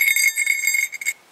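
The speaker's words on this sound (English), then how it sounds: "It's a bear bell. Put it on your bag. Let the bears know you're coming." A bear bell hanging on a hiking camera bag jingles in quick, bright, metallic rings, close and fairly loud, pulsing with movement for about a second before stopping.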